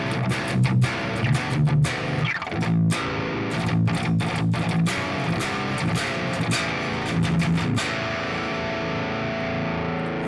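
Heavy rhythm guitar played through an amp plugin with delay and reverb switched off, dense distorted chugging with sharp stop-start chord hits and brief gaps, loud and steady throughout.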